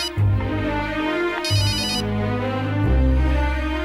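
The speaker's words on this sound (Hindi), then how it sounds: "बाबा का फोन आ रहा है।" A mobile phone rings with a melodic ringtone during a Hindi TV drama scene, playing steady tonal phrases with a brief high chiming burst partway through, loud and close over a continuous music-like backdrop.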